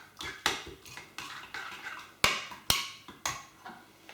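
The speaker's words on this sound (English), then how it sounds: "Give it a good stir." Coronation chicken mixture is stirred in a bowl, a spoon clinking and scraping against the sides in a quick, repeated rhythm of sharp taps, close and fairly quiet with no voices.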